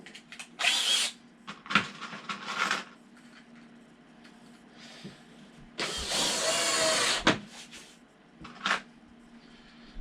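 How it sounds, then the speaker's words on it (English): A power drill countersinks and drives screws into wood for a bonsai backdrop, sounding in several short whirring bursts and one longer, louder run, with quiet pauses and knocks of handling between them. "We'll countersink it. And then we can put our screws in."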